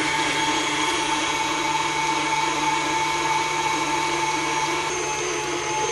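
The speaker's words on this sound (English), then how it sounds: "Now we're going to mix this on high for 3 minutes." Electric mixer beating cinnamon roll dough on high speed, a steady motor whine holding even and loud without a break, with no talking over it.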